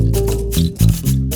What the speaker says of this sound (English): I recorded myself playing some bass chords